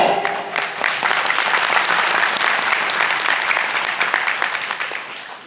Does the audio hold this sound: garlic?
no